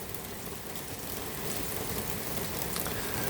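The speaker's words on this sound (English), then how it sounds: "it's raining pretty good now" Steady rain falling hard outdoors, a dense, even hiss of drops on surfaces that continues throughout, with no voices over it.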